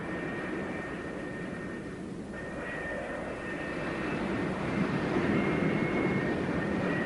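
F-4B Phantom II jets taxi on the flight deck of the aircraft carrier USS Forrestal, a steady loud jet engine roar with a high whine that swells slightly toward the end.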